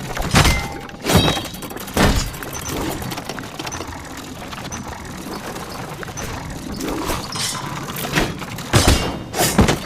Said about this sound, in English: The dummy's final attack shook the ground.